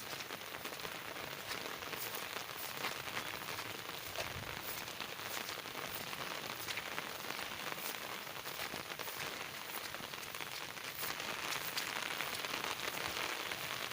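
Steady rain pours down in Ubon Ratchathani, Thailand, a dense hiss of drops pattering on surfaces with no pauses, fairly loud and close throughout.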